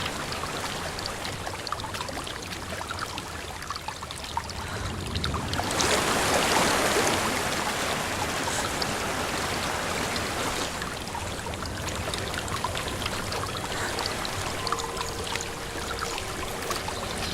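A waterfall in Hellblade: Senua's Sacrifice rushes steadily as a broad, continuous wash that swells louder for several seconds midway, then settles back to a constant roar.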